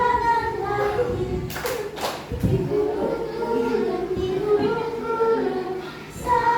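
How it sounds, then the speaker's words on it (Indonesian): A few sharp hand claps land along with a sung Indonesian children's song: a quick cluster of three, then a single clap later, all heard under the singing voice. "Buka tutup tepuk tangan lagi."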